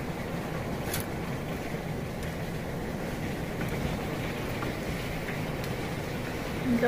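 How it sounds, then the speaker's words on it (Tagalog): Heavy rain during a typhoon with signal no. 8 raised, a steady broadband roar of downpour and wind outside, constant and fairly loud, with a few faint knocks. "Lakas ng ulan sa labas."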